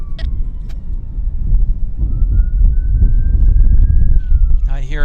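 An ambulance siren sounds across an airport airfield: a thin wailing tone slides up and holds over a loud, rumbling vehicle and wind-noise background, with a brief voice near the end.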